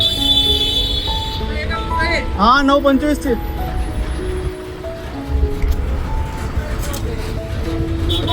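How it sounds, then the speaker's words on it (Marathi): A red MSRTC ST 'Lalpari' bus on the Mumbai to Dapoli Konkan route pulls up at a stop. Its engine rumbles, and a tonal, warbling horn sounds midway. People talk nearby throughout. "गाडी आली."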